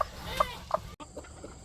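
Chickens clucking in a backyard coop, a couple of short, close calls rising over a steady low outdoor background, with a sharp cut partway through.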